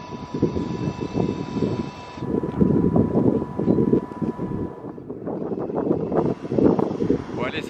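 Gusty wind buffets the microphone in rough, uneven rumbles on a seafront promenade, with a person talking over it.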